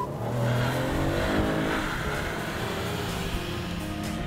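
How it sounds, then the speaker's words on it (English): A 2018 Toyota Sienna minivan accelerates hard with its tires spinning, its engine roaring loud and steady throughout. "spin the tires if you want to drive like a jerk"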